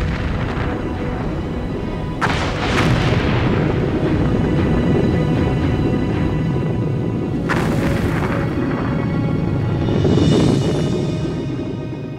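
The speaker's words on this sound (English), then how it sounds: "November 1963, just south of Iceland, fishermen report explosions." Volcanic eruption at sea just south of Iceland, the 1963 birth of Surtsey: several heavy booming blasts roll out over a continuous deep rumble, each swelling and fading slowly.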